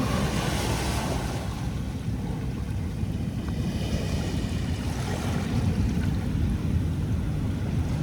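Waves wash continuously onto the shore at Manila Bay's Dolomite Beach, a steady close surf roar mixed with wind buffeting the microphone, with no voices.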